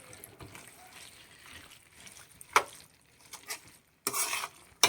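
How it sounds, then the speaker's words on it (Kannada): Cooking water from boiled beans pours into a Malnad-style bamboo shoot curry in a pot. Soft liquid trickling and stirring scrapes come first, then a louder splashing pour near the end. "ಕಾಳು ಬೇಯಿಸ್ಕೊಂಡಿದ್ವಲ್ಲ ಅದ್ರದ್ದು ನೀರನ್ನೇ ಸ್ವಲ್ಪ ಆ್ಯಡ್ ಮಾಡೋಣ ಇದಕ್ಕೆ"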